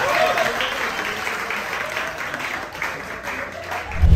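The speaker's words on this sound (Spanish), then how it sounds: "Un aplauso porque lo logré y volvió." A stand-up comedy audience claps in a steady, lively burst at a crowd-work show, with faint voices mixed in and a brief low thump near the end.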